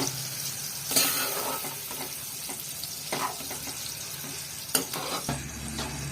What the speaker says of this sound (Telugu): చూడండి ఇప్పుడైతే ఇవన్నీ ఒకసారి నేను వేసి వేపేస్తున్నాను చెప్పే కదా ఆయిల్ లేకుండా వేయించుకోవాలి